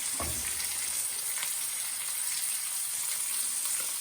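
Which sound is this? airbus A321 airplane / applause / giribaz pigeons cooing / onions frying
onions frying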